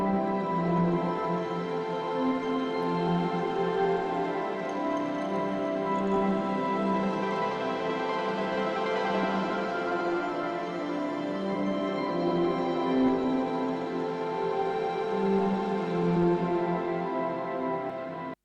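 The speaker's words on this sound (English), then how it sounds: "And all together the atmospheres sound like this." Layered ambient pads from a pop ballad production form a steady, sustained wash of tones with no percussion, holding an even level throughout.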